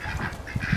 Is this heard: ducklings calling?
yes